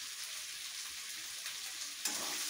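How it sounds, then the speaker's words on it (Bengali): Onion and corn frying lightly in a pan, a steady close sizzle that holds level throughout, with a brief brighter crackle near the end. "দেখো পেঁয়াজটাও আমি একটু ভেজে নিচ্ছি হালকা করে"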